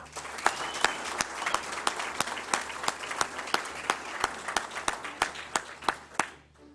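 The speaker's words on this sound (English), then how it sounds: "Now that deserves a round of applause." A crowd applauds at a Nasdaq opening bell ceremony, bright individual claps forming a lively, fairly close round that fades out over the last moments.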